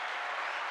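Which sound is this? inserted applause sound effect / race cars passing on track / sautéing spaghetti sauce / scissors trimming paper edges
inserted applause sound effect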